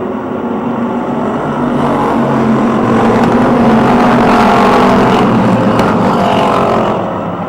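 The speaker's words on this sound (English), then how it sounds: "Then side by side, Dan Jordan in 32, Harold Hunt in the 88." Race cars at Motordrome Speedway roar past in a loud, sustained engine drone that swells and fades slightly as the pack runs side by side around the oval, with no voices over it.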